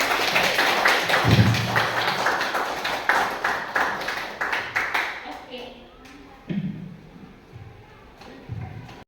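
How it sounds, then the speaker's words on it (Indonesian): An audience claps after a speaker finishes a presentation on positive school culture. The dense applause fades over several seconds into a few scattered claps, and talking can be heard around it. "Tepuk tangannya dong."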